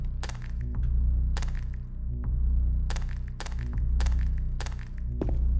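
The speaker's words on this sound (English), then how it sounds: "Suppose it's the sound of the glass I'm walking on." Sharp crunching and tinkling of glass underfoot in the video game Silent Hill 2, several irregular steps over a low steady hum, close and fairly loud.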